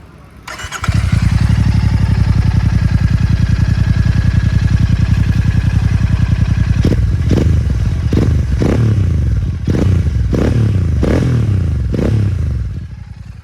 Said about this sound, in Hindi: तो ऐसी जो है इसकी साइलेंसर की हमें कुछ आवाज़ सुनने को मिलती है, जो कि है केपी रेसिंग की तरफ से।